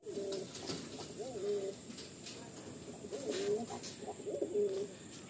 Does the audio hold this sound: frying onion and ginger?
no